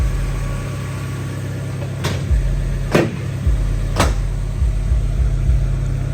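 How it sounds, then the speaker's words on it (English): A steady low engine idle from a K-series wagon hums throughout, with three sharp clacks spaced about a second apart as the hood closes nearby. "obviously you can hear the engine"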